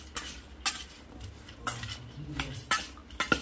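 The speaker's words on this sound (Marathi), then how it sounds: "एक मोठा चमच हळद आणि असं मिक्स करून घ्यायचं।" Turmeric being stirred into raw mango pickle pieces with a large spoon, giving scattered soft scrapes and clinks of a spoon against a bowl, close and fairly quiet, with no talking.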